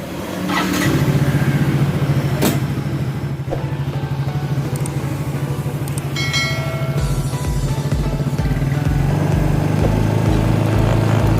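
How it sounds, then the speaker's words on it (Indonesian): A Yamaha Mio GT scooter with a drained battery starts up and settles into a loud, steady idle, its engine close by and running alone throughout. "Kita akan nyalakan motornya."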